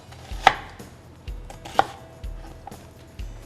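A knife chops through food on a board in a few sharp, separate strikes, close and clear, with quiet pauses between cuts.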